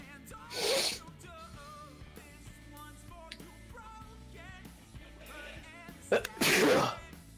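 Two loud, sudden sneezes from a person, one early and one near the end, stand out against a noisy background of music or game sound with some faint talking.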